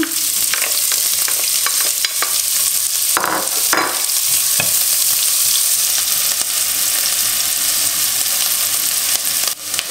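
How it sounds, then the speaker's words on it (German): Oil sizzling and frying in a pan while ingredients for a buckwheat dish, such as onions and carrots, are stirred. The sizzle is steady and loud throughout, with scraping stir noises and no talking. "Tue ich erstmal das Öl rein."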